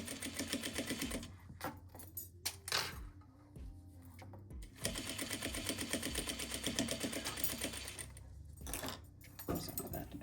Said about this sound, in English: And then continue stitching.